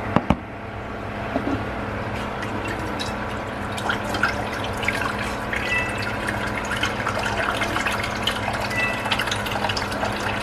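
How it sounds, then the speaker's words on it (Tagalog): Tap water runs into a cooking pot for mung beans, a steady gushing fill with scattered drips, continuous and close, with no talking. "Dito na lang tayo magsalok ng tubig."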